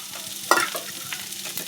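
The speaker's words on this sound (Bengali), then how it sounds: "সমস্ত কিছু ভালো করে মিক্স করে নেব।" Soybean chunks stirred and fried with turmeric and spices in a pan for a bitter gourd stuffing, a close steady sizzle broken by one sharp spatula scrape and lighter scrapes after.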